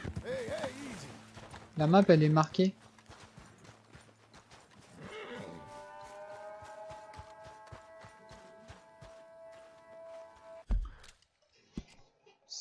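A horse neighs and its hooves clip-clop in the Red Dead Redemption 2 video game, a whinny standing out early before steady hoofbeats continue under sustained musical tones, with someone talking over it.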